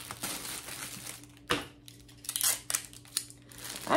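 Cellophane wrap on a gift basket crinkles and rustles in short bursts as it is tucked and pressed into place, with a few sharper crackles standing out over a low steady background hum.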